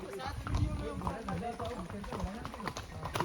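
Horse hooves clip-clop along a hill path at Matheran hill station in a quick, uneven rhythm, heard under people chatting nearby.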